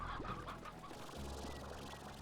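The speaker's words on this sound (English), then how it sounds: "There's so many chickens." Chickens clucking in a crowded poultry house, a steady mass of overlapping clucks and calls heard close by, alone without talk.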